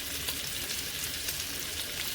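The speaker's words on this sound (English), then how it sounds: "I've got some bacon over here sizzling" Steady, bright hiss and crackle of bacon frying in a pan, continuous and close, with no talking.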